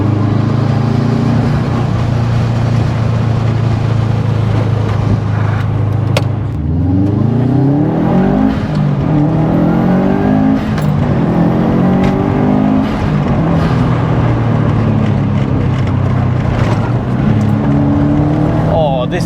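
Subaru Impreza STI Spec C Type RA driven on a pothole-ridden road, the engine droning steadily, then revving up through rising, shifting tones and settling back under cabin noise, with a person talking over it.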